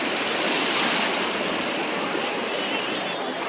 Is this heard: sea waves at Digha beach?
yes